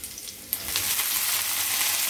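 Chopped onions and fresh mint leaves sautéing in a pan, a bright steady sizzle that jumps up sharply as the mint hits the hot oil and then holds at a constant hiss.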